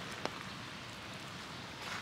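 Steady rain falls across a park at Hiroshima Castle, a soft even hiss of drops on the ground and foliage with a faint nearby tap, continuous and unbroken throughout.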